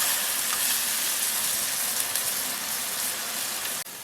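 Beer poured into a pot of browned chicken with scallion, ginger, garlic, bean paste, soy and oyster sauce for big plate chicken, giving a loud, steady broadband sizzle and hiss that runs nearly unbroken before a brief dip near the end.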